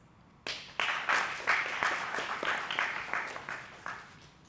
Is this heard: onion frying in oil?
no